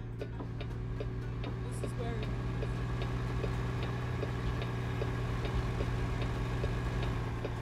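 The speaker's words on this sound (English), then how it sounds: "it's SCS's default engine sounds" A truck engine idles with a steady low rumble, the default engine sound of American Truck Simulator, running continuously under a quiet, regular ticking for several seconds.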